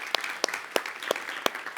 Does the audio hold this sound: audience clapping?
yes